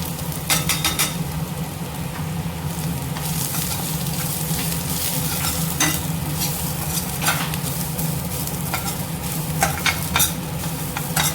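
Spices and coconut roasting in a pan for chickpea curry, a steady dry sizzle with frequent scraping and clinking strokes of a spoon stirring close by, no voices over it.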